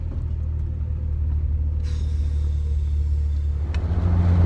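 Car interior with a strong, steady low engine and road rumble throughout as the vehicle drives along in heat, carrying a petrol canister; no speech.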